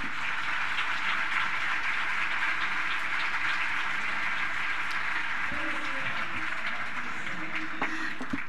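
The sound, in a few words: audience applause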